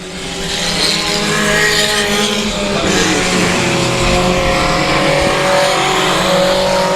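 Race cars lapping the oval at South Texas Speedway, a loud, sustained engine roar from several cars that rises and holds with a steady droning pitch.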